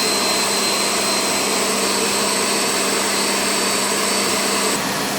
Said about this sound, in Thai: ฉีดล้างทำความสะอาดแผงหน้าหม้อน้ำให้นะคะ เพื่อการระบายความร้อนที่ดีขึ้นค่ะ